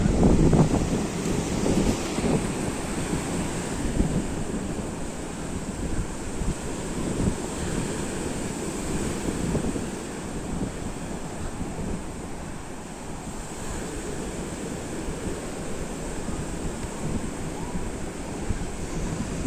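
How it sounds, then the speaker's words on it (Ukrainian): Heavy Black Sea storm surf rolls and crashes continuously over a breakwater in Odesa, Ukraine, with a deep, roaring wash and blustery wind buffeting the microphone; no voices. "Як хвилі перекидаються через волноріз."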